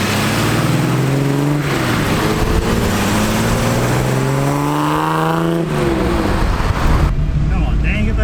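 A 1970 Ford Capri V6 revving hard through the gears, engine pitch climbing and dropping in repeated sweeps, loud and close from inside the car.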